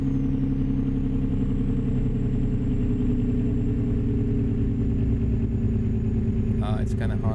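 Heavy truck engine in American Truck Simulator with a big diesel-style mod sound, a steady loud low rumble droning throughout under faint background, with a brief higher clatter near the end.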